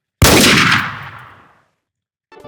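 A single loud, close video-game gunshot cracks out sharply and rings off over about a second, followed by silence and a short burst of another sound at the very end.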